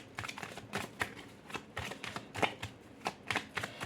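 Tarot cards are shuffled and drawn from a deck by hand, a string of soft, quick papery flicks and slaps in an uneven rhythm, close and quiet, with no talking.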